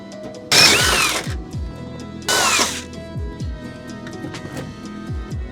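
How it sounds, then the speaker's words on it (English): Power drill boring holes in a Subaru WRX during an intercooler heat-management build, two loud whirring bursts of about a second each separated by a pause, with clanking and workshop noises around them. "Don't need to drill more holes than necessary."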